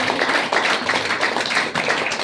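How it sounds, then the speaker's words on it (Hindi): Audience clapping at a DXN meeting in Badlapur: dense, sustained applause from a crowd, loud and steady for the whole stretch, with no talking. "मैं इसके लिए एक जोरदार ताली दूँ।"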